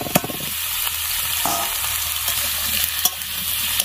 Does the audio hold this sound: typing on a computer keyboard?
no